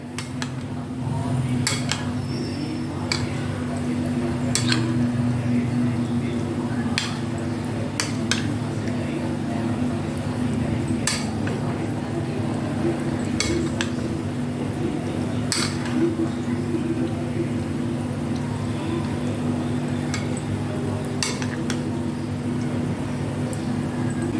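Curd pasta salad with macaroni being stirred in a bowl, with steady clinks and scrapes of a spoon against the dish over a constant low background hum, fairly close and even in level.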